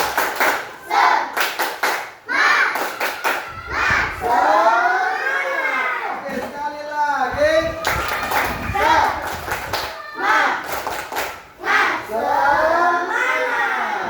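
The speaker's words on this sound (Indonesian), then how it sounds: "Tepuk semangat." Classroom group of students doing a rhythmic 'tepuk semangat' clapping ice-breaker led by a teacher, bursts of patterned claps alternating with chanted group voices and a teacher speaking between rounds.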